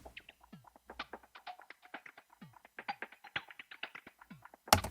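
Minimal house glitch loop: quick, skippy clicks and chopped percussive blips in a stuttering, irregular rhythm, quiet and dry, ending on a sharp louder hit.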